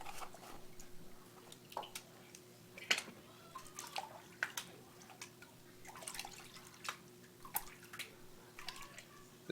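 Gravel being washed in a gold pan with water at home, a faint, close sequence of sloshes, drips and trickles in an uneven back-and-forth rhythm against a quiet background.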